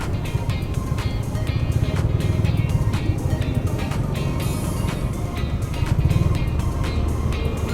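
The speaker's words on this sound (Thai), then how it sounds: "โหรถเยอะมากเลย" Heavy road traffic streams past on a busy Thai highway, heard from a moving motorbike with a helmet-mounted phone, a loud continuous roar of wind and engines with vehicles surging by.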